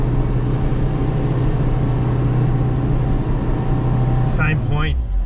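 A four-wheel drive vehicle working in deep sand, its engine droning loud and steady with strained, labouring tone as the wheels spin, ending in a brief rising whine near the close; heard from inside, without clear talk.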